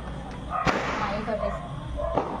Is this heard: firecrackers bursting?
yes